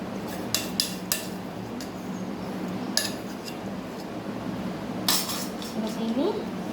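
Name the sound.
mixing mango pickle pieces with warm oil in a bowl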